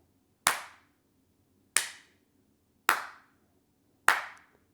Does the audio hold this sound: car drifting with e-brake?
no